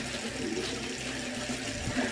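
Rust-stained fabric being hand-washed with laundry soap, giving a steady close wash of running, sloshing water throughout with small splashy shifts and no talking.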